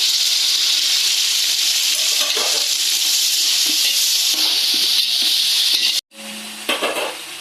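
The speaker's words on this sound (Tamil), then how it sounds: "இப்போ அது கூட தக்காளி பழத்தை சேர்த்துக்கிறேன்." Tomatoes go into frying ginger-garlic paste for chicken biryani, giving a loud, steady close sizzle that cuts out abruptly near the end and then returns in a rougher burst, with no talk.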